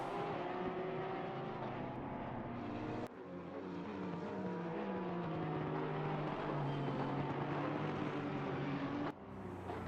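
A Porsche GT3 race car from Country Club Racing circles the Nürburgring in a mixed GT3/GT4 session, its engine drone rising and falling at a distance with gear shifts, faint throughout.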